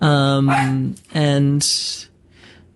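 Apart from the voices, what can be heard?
dog barking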